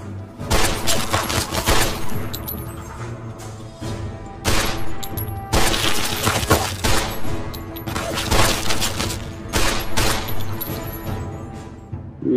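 Dense bursts of gunfire erupt in Fallout 3 combat, loud repeated shots and clattering volleys in several waves with crashing impacts, near and continuous over about twelve seconds.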